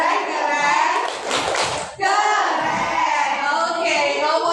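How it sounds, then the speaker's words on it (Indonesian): A group of schoolchildren clapping hands together in a classroom, a dense burst of applause that stops abruptly, then resumes with voices and clapping mixed together loudly nearby. "Coba kita kasih tepuk tangan dulu. Tepuk tangan."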